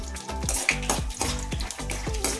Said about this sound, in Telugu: నూనె కొంచెం కాగింది, శనగవిత్తనాలు వేసుకున్నాము.